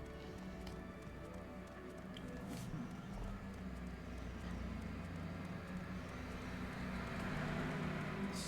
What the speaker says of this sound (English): Sorry if you hear that truck outside.